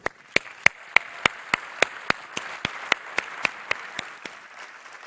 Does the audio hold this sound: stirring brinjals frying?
no